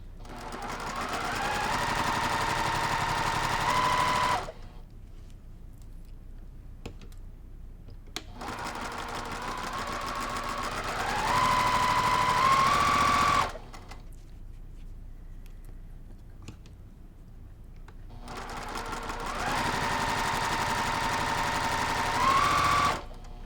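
Short bursts of a sewing machine chain piecing quilt block patches with a quarter-inch seam, three fast steady runs of stitching separated by quiet pauses, close and clear.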